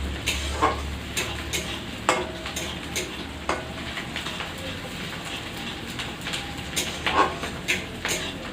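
Crushed onion, garlic and slit green chillies frying in a pan for a red amaranth dish, continuous close sizzle broken by repeated sharp spatula scrapes and clinks at irregular intervals.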